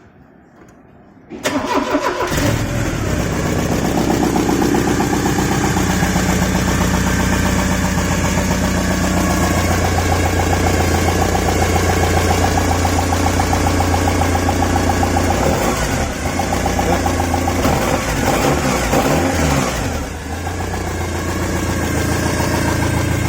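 A Porsche 944 engine, just fitted with a new cylinder head gasket and cam belt, cranks and fires after a quiet second, then settles into a loud, steady idle with a slight dip in revs near the end.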